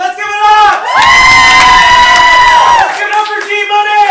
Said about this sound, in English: we should cheer a little bit louder for them